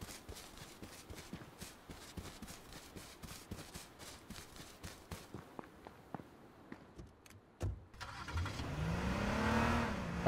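A police car is driven in H1Z1 on PS4, starting with rhythmic knocking and thumping, then a sharp impact followed by an engine revving up loudly and rising in pitch near the end.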